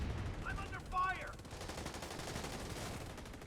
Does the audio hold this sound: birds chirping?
no